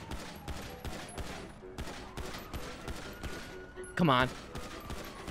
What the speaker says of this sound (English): I shot him right in the face.